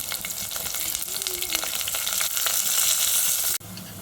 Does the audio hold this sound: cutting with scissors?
no